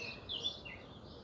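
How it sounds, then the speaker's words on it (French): Faint birdsong outdoors on a summer holiday, a few thin high chirps and short warbles rising over a soft, quiet background. "Alors à l'extérieur, j'écoute les oiseaux,"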